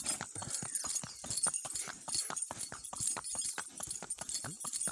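Steady clip-clop of horse hooves climbing uphill, close and regular, a quick rhythmic stream of hoof strikes with no one talking.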